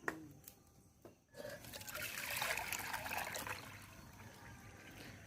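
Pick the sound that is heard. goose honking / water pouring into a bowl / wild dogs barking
water pouring into a bowl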